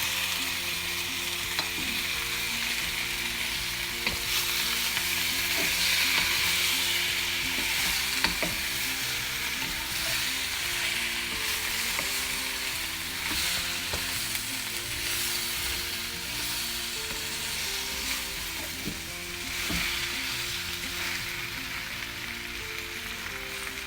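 Fried vegetables sizzle and crackle steadily in a pan while being stirred, a constant close frying hiss with scraping stirring strokes throughout, over low background music and without talk.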